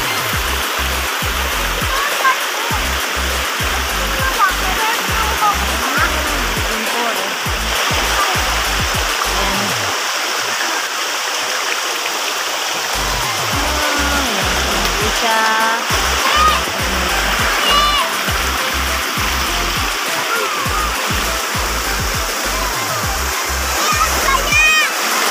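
Nalalata Falls, a waterfall in Bicol, roars as a steady, loud rush of water through the whole stretch, with several people talking over it.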